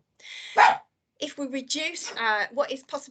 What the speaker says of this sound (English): sorry about the dog, always typical when you're doing a presentation